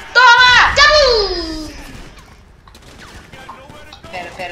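Grenade blasts in GTA 5 gameplay: a loud burst of harsh, crackling explosive noise at the start, fading into quieter game sounds as voices talk over it.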